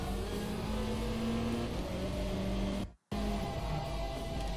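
A race car in Gran Turismo Sport drives hard with a steady droning engine note that shifts slightly under braking, close and continuous, broken by a brief full dropout near the end.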